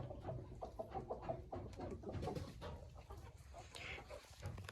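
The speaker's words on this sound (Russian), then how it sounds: "Вот эта курочка, которая несет здесь яйца. Фавероль." Soft, low clucking from a Faverolle hen and other chickens in a henhouse, with a jumble of quiet murmurs and rustling at a close but faint level; no talking.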